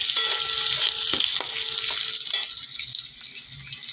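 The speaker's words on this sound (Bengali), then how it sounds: "এখানে দেখো আলুগুলো ভেজে নিলাম।" Potatoes frying in oil produce a loud, close sizzling hiss with a few light clinks and scrapes over it, easing slightly toward the end.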